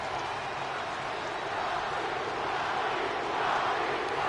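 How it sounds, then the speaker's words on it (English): Roaring arena crowd in the wrestling game WWE 2K22 as The Rock heads to the ring, a dense, steady wash of cheering that swells slightly toward the end, with no talk over it. "This place is going crazy right now. Listen to that crowd."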